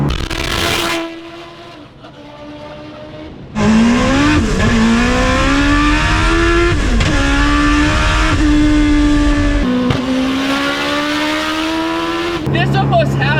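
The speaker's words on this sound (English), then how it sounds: "you're spinning, you're making the tires squeal" A big-turbo Polaris Slingshot engine revs loudly while its tires squeal in long sustained tones, with brief pauses and a clatter at the end.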